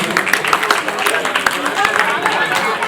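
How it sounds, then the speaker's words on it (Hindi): Audience applause at a Jain Siddhachakra Mahamandal Vidhan aarti and cultural programme, a dense continuous patter of many hands clapping steadily throughout, fairly loud and close. "ताली बजा दीजिए सम्मान में।"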